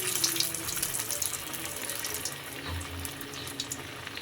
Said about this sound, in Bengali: একদম ডুবো তেলে সুন্দর করে এরকম শেপ দিয়ে পাতলা পাতলা করে পেঁয়াজগুলোকে একে একে ছেড়ে দেবো